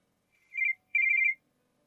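A telephone rings in two electronic bursts, a short one followed by a longer warbling one, clear and alone against silence.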